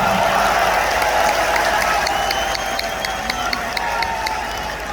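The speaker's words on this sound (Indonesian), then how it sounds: "Beri tepuk tangan untuk Mas Ahaye." An audience applauding at an Indonesian political rally, with a dense, sustained wash of clapping and crowd noise and some cheering filling the hall.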